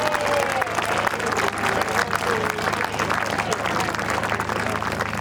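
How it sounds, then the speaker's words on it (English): An audience at the Bridlington men's final presentation gives Ray Wardell, Secretary of Bridlington Park Homes, a loud, sustained round of clapping that runs evenly throughout, with a murmur of crowd noise beneath. "a very loud round of applause"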